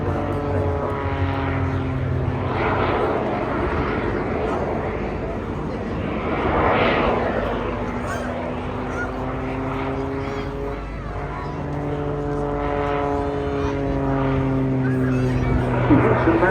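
A jet aircraft performs aerobatic climbs and rolls at the Eastbourne International Airshow, its engine drone rising and falling in long sweeping tones, steady and moderately distant, with a commentator talking over it.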